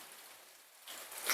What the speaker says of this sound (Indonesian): pantau-pantau hujan di depan rumah